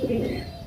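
A pet pigeon gives one short, close cooing call, heard clearly and briefly.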